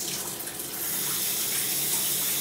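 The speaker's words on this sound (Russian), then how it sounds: "Включаем воду." A household faucet, demonstrated by a plumber in the United States, is turned on and runs in a steady, close, full gush of water into a sink, getting slightly stronger after the first moment.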